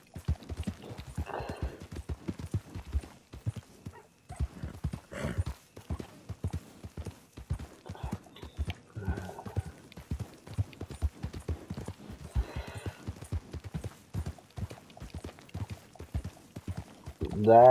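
Hooves of a horse galloping in Red Dead Online, a steady fast clip-clop running throughout at close range, with a brief whinny and people talking over it.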